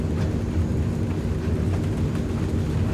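Inside a Transall C-160 military transport plane in Microsoft Flight Simulator, a steady low engine drone carries a constant rattling vibration, loud and unbroken throughout.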